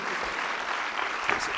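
Short burst of audience applause at a motivational success seminar, steady dense clapping from a crowd, fairly close, with no clear talk over it.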